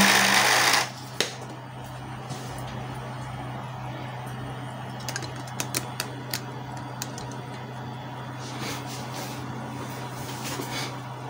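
Epson L310 printer powering up after being switched on: a brief loud burst, then a steady mechanical hum with scattered light ticks and clicks from the mechanism, close and alone.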